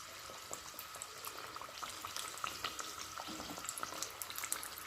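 Chicken samosas frying in hot oil in a small iron pan, a steady close crackle and bubbling with scattered sharp pops throughout.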